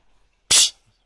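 A hedgehog sneezes once, a short sharp burst standing alone against near silence.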